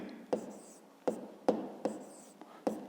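Chalk or marker writing math on a board in a fifth-grade lesson: five short, sharp strokes at uneven intervals, close and fairly clear, with a soft background between them.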